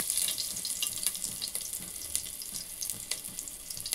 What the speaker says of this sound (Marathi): मिरची टाकून देऊया।